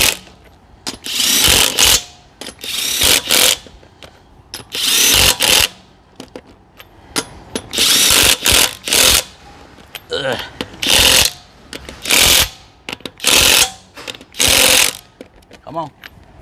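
A MATCO cordless impact wrench removes car lug nuts in a garage. About a dozen loud, close hammering bursts are separated by short pauses, with voices talking between them.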